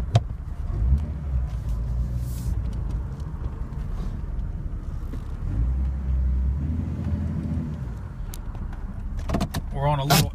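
A lifted Jeep Cherokee climbing a small incline, its engine giving a steady low rumble throughout with faint clunks and creaks, and a voice briefly heard near the end.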